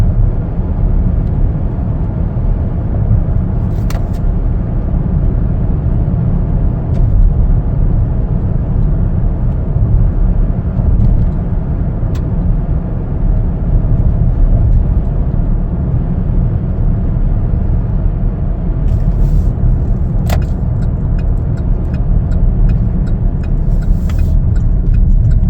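Steady cabin drone of a 2021 Chevrolet Traverse LT on a test drive, a continuous low engine and road rumble throughout with a few faint clicks and ticks.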